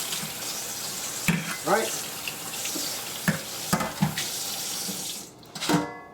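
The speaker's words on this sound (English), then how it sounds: "Wash the colander out." Tap water runs steadily into a sink while a colander is rinsed out, with splashing surges as the water strikes it; a voice speaks briefly.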